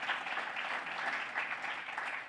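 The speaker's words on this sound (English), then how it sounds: "Let's give our advisory board a round of applause." Audience applause at an elders documentary screening, honoring an advisory board: steady, dense clapping from a crowd, moderately distant and even in level throughout, with no voices over it.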